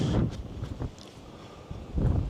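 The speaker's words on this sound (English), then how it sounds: "It's a little bit windy." Wind gusts buffet the ruins of Lligwy Church, a twelfth-century chapel, as loud low-frequency rumbles against the microphone that swell at the start and end with a calmer stretch between.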